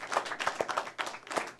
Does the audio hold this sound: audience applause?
yes